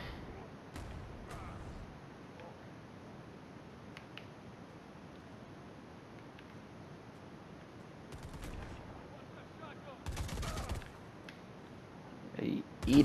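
Gunfire in the video game Predator: Hunting Grounds comes as short sharp bursts against a low rumbling game background, with a louder burst near the end.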